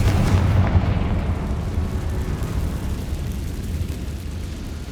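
Blasting Confringo fire spell in the Hogwarts Legacy video game, a loud rumbling explosion with a sharp onset that decays into a sustained low roar, no talking.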